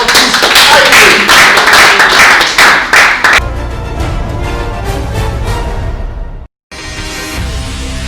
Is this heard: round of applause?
yes